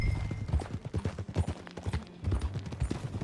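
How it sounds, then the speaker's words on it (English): Horse hooves clip-clop in a steady, uneven rhythm in the video game Red Dead Redemption 2, close and fairly loud, with no talking. "That a new horse?"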